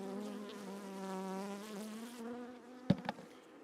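Angry honeybees from a small colony nesting in a bird box make a close, steady buzzing drone that fades out near the end, followed by a couple of sharp handling knocks.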